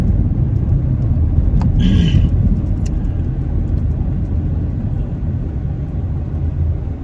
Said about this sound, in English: I'm in roadworks and there's cars all around